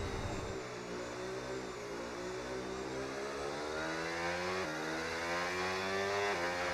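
Racing car engine in the F1 26 video game revs steadily throughout, its pitch climbing through gear changes with a brief shift near the middle, loud and continuous with no talk.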